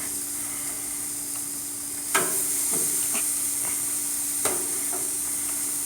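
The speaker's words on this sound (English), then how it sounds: "We're going to throw those steaks on there, give them a good sear on one side." Steaks searing on a hot grill give a steady, bright hiss with a faint tonal hum beneath, broken by a couple of sharp clicks or taps partway through; no one speaks.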